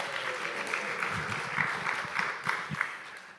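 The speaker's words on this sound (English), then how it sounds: "Let's give them another round of applause." A synagogue congregation at a Saturday Shabbat confirmation service applauds the confirmation students, a steady wash of moderate clapping from a roomful of people, with a few louder claps standing out.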